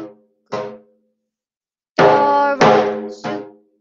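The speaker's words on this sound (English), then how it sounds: "So it sounds like this on the drum." A taiko drum struck in the Doro Suku rhythm: a few resonant hits, a couple spaced apart, then a louder cluster of booming strokes close by, with no voices.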